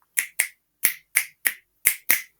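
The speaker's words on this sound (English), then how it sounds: "Let me see you try to snap the fingers" Crisp finger snaps from a children's classroom activity, seven bright clicks in an uneven rhythm, some in quick pairs, close by with no talking.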